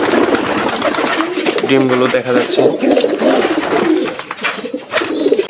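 Bombay pigeons in a loft, some sitting on eggs beside chicks, coo softly in a low steady rumble that runs under continuous close speech.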